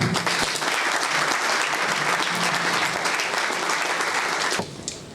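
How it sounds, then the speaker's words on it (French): An audience at the launch of the tenth Sambas Professionnels event in Libreville breaks into dense, sustained applause that fills the hall evenly, then drops off abruptly near the end. "S'il vous plaît, vous pouvez applaudir."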